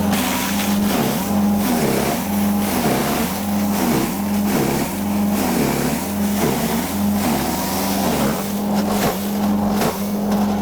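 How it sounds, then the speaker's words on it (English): Toro 60-volt cordless power shovel grinding into hardened, frozen ice-storm snow, a steady loud motor drone with a rhythmic surging as the blade bites repeatedly into the packed layers, continuous throughout. "Let's punish the cordless power shovel and test its capabilities with frozen snow."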